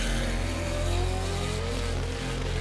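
David Reynolds' race car powers out of the final corner in first gear, rear tyres sliding and spinning. A loud, steady engine roar with rising pitch carries on throughout, and no one speaks over it.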